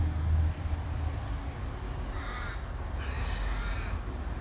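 A crow caws twice in short harsh bursts near a heavily fruiting loquat tree in a tropical garden, moderately close over a low steady outdoor rumble.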